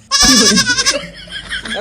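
A goat lets out one loud, close, quavering bleat that lasts under a second, then trails off into quieter background noise.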